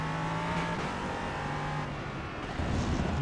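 Race car engine in iRacing at Laguna Seca, droning steadily and loud as it overtakes a BMW, with a slight surge in the final moment.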